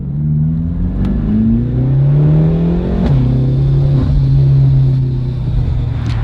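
A BMW M6 driving and accelerating, its engine note rising and falling in steady sweeps with a couple of gear changes, loud and close throughout.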